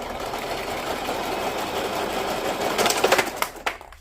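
A sewing machine runs in a steady, even whir for several seconds, then a few sharper clattering bursts near the end before it stops.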